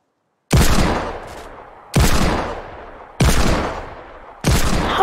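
Pistol shots ring out in a Fortnite pistol duel, four loud separate gunshots spaced about a second and a half apart, each with a sharp attack and a decaying tail, without speech.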